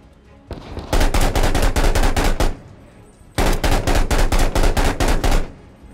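Automatic gunfire rings out in a realistic war video game, two long sustained bursts of rapid shots, loud and close, separated by a short pause.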